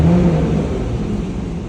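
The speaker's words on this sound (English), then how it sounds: "Let's go ahead and open our exhaust valves here, give it a couple revs." A 2020 Porsche Macan GTS with a 2.9-litre twin-turbo engine revs loudly and close up with its exhaust valves open, giving a deep, sustained roar that eases off slightly toward the end.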